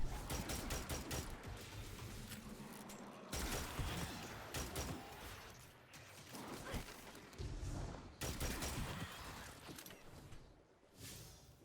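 Rapid gunfire in Destiny, loud bursts of automatic shots broken by short pauses, with a few heavier impacts mixed in and no talking.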